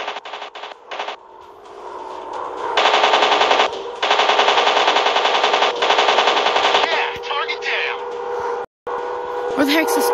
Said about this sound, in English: I'll do strafe with the Gatling guns.